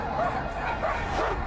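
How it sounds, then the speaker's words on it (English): Dog barking and yipping in the video game Marvel's Guardians of the Galaxy, a run of repeated close barks over steady game background sound. "Hey, it's the dog again!"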